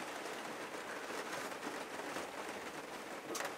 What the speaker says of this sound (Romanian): Plouă și iar plouă.